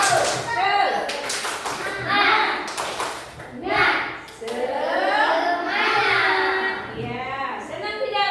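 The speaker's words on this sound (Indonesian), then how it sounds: "Tepuk semangat." Schoolchildren in an Indonesian classroom clap a rhythmic spirit cheer together, sharp patterned claps mixed with children's voices and a teacher speaking, moderately loud and close.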